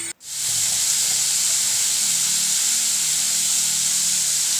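Whole spices frying in hot oil in a pan for paneer masala, giving a loud, steady close-up sizzle and hiss that starts suddenly and holds without a break.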